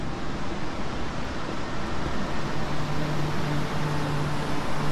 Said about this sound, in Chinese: 那流水声就是从这里传上来的